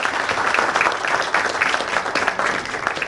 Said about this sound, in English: if you could give another round of applause for the panelists and the speakers